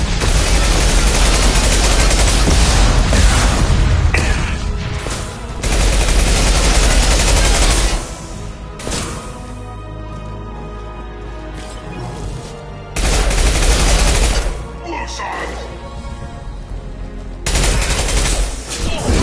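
Loud sustained bursts of automatic gunfire in Mass Effect, long roaring volleys separated by quieter stretches of combat ambience, close and dense.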